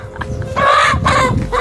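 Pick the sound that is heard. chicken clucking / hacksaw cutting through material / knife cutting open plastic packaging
chicken clucking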